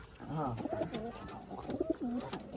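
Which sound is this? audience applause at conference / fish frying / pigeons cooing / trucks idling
pigeons cooing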